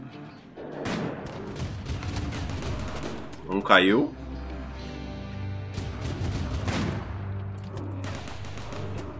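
Gunfire from a firefight in RimWorld during a sea-ice survival challenge: scattered shot bursts sit under steady talk, with one sharp, louder burst standing out in the middle.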